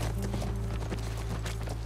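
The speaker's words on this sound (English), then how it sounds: "That's our horse." Horse hooves clip-clop in The Last of Us with quick, faint, rhythmic thuds over a low, steady hum.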